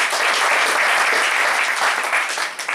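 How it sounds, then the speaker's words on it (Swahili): A church congregation claps together in dense, sustained applause that stays loud and even for a few seconds before easing slightly at the end. "Mpigie Bwana makofi."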